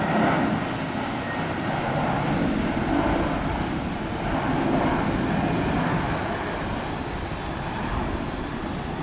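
Airliner engines at takeoff power at Brisbane airport, a steady, loud broadband roar that swells slightly and holds for several seconds with no talk over it.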